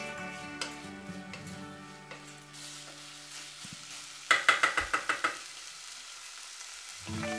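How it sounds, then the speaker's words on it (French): Beef pieces fry in Massaman curry paste and coconut milk with a soft, continuous sizzle, joined midway by a quick run of sharp clinks from a utensil against the pan, faint and close with no talk. "Ajoutez les morceaux de bœuf, faire revenir une trentaine de secondes."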